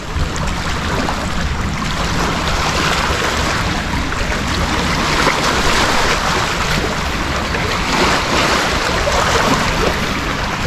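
Sea waves wash and slap steadily around a small fishing boat off Manila, a loud, continuous broadband rush mixed with wind buffeting the microphone, with no one talking.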